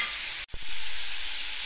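Two tablespoons of whisked sour yogurt hit hot oil in a pan over a low gas flame and crackle into a steady, close sizzle. A brief dip in the noise comes early, and the frying hiss then carries on evenly with no voices.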